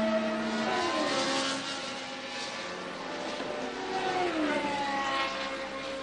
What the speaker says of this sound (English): into the pits goes Villeneuve